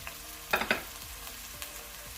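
Garlic and celery frying in a pan, with a steady low sizzle running throughout and a few louder clattering stirring bursts near the start.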